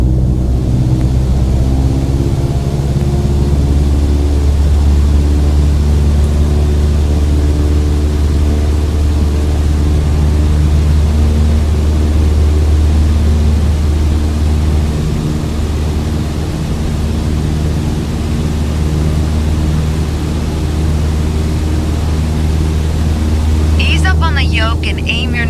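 A Cessna 152 engine throttled back to 2,300 RPM in Microsoft Flight Simulator 2020, a steady, loud, low droning hum with a constant rumble and no change in pitch for the whole stretch.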